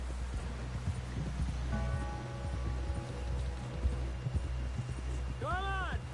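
Hooves of a galloping horse in Red Dead Redemption 2 thud in a steady, rapid rhythm under a low ambient rumble and game music tones, with a voice speaking faintly over it.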